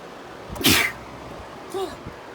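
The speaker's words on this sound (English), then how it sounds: "Damn, I hate sneezing." A single close, loud sneeze with a sharp burst of breath, followed about a second later by a short vocal sound.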